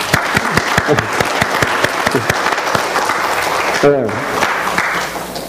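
A church congregation claps steadily and loudly, dense applause filling the room from start to finish.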